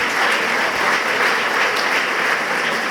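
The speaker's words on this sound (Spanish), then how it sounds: "pido un aplauso para José Luis e para Gerardo" Dense, sustained applause from an audience at a cycling club gala fills the whole stretch at a steady level, with no talking on top.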